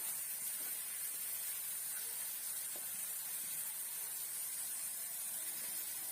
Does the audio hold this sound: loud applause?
no